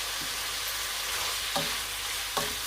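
Beef curry being stirred in a pan, a steady sizzling frying hiss running throughout with a few soft scraping strokes of the spoon, close and fairly quiet with no talk.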